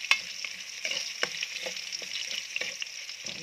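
Ginger sautés in a pan for chicken tinola, a soft steady sizzle broken by repeated light scraping strokes of stirring, fairly quiet, with no talk.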